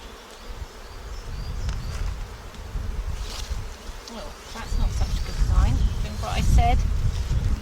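Honeybees hum steadily from an opened hive box, a close, continuous buzz that swells and fades as individual bees pass near, with a voice speaking softly at times.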